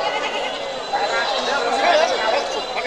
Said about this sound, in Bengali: চতুর্দিকে খালি ছাগল আর ছাগল